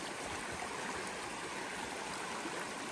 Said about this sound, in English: Another water crossing, where it's pointless to even try to keep your feet dry.